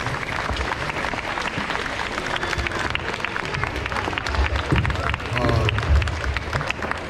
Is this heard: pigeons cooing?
no